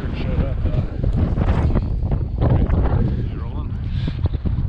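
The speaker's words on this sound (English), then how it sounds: "we didn't think this wind was gonna come in." Cold wind blowing across a frozen lake while ice fishing with tip-ups, a steady rough rumble buffeting the microphone throughout, with people talking over it.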